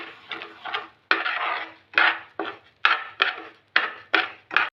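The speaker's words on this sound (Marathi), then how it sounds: "आपण ते तुपामध्ये छान परतून घेऊ।" Coarse wheat semolina being stirred and roasted in ghee in a pan, with repeated scraping strokes of a spoon against the metal in a steady rhythm, close up and with no talking.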